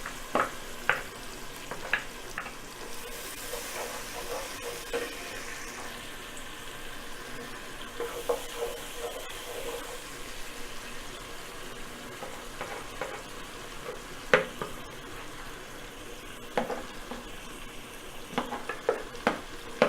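Onion and garlic frying in a pan, a steady close sizzle broken by occasional scraping and clinking stirs.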